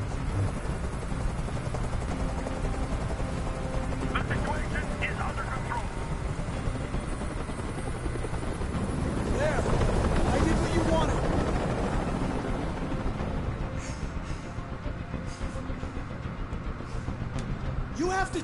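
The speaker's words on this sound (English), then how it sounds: "Tell that helicopter to get out of here." A video game helicopter's rotor chops and roars continuously close overhead, swelling louder midway, with faint voices under the noise.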